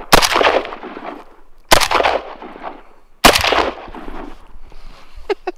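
Three loud rifle shots from a Dragunov firing 7.62x54R rounds at a bulletproof vest, spaced about a second and a half apart, each sharp crack trailing into a ringing outdoor echo, with a faint metallic tinkle after the last.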